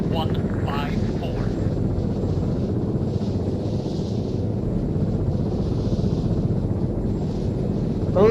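Military UAV drone flying overhead in the combat game Arma 3, a continuous droning engine hum with low rumble throughout, heard under steady talk from players.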